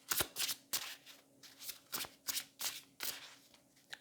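Muse Tarot and oracle cards are shuffled by hand in a steady run of crisp riffling bursts, about two per second, close and soft with no talking.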